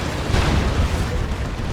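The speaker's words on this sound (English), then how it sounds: "That's a Demolisher Cannon." A Demolisher Cannon fires during an Imperial Guard versus Eldar battle in Dawn of War 2, a dense continuous boom and rumble of battle noise that holds steady and loud for under two seconds.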